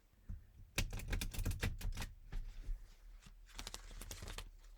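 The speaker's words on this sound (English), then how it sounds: "I will shuffle the cards over here" Rapid bursts of crisp riffling clatter, two quick shuffles of playing cards close by, with short pauses between them and no talking.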